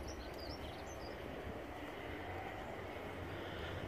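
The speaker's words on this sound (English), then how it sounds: "Look at that lovely little train there." A miniature model railway train runs through an outdoor model village, a faint, steady rumble and rolling hum continuing throughout with light outdoor ambience and distant bird chirps.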